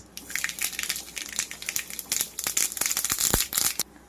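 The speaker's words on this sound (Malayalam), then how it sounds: "വെളിച്ചെണ്ണ ചൂടായിട്ട് അതിലേക്ക് കടുക് ഇടുന്നു." Mustard seeds popping in hot coconut oil, heard as a dense run of sharp crackles and pops close by, with no voices.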